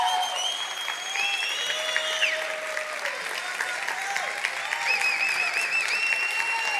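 Church congregation applauding steadily for several seconds, a dense continuous patter with voices and whistling or singing tones rising over it.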